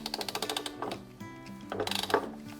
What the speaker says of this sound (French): l'avantage aussi de cette défonceuse c'est qu'elle a un système de serrage par cliquet